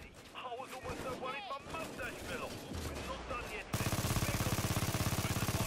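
Automatic gunfire in the heist shooter PAYDAY 2 during an oil-rig mission, rapid bursts under someone speaking at first, then a loud sustained rattling stretch of fire.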